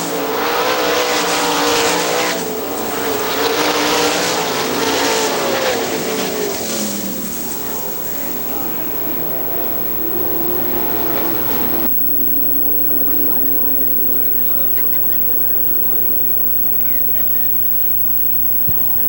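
Sprint cars roaring around Hartford Speedway Park dirt oval, a loud sustained engine drone with passing cars rising and falling before fading to a quieter, more distant hum.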